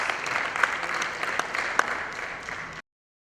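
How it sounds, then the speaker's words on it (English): A short burst of steady clapping from a conference audience of directors, moderately loud with a few sharp individual claps standing out, cutting off abruptly after under three seconds. "Once again, another round of applause."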